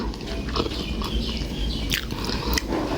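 Someone eating hot rice with chili paste and a boiled egg from a 7-Eleven meal, with close, moist chewing and soft biting sounds that run continuously, plus a few sharper clicks, with no talk.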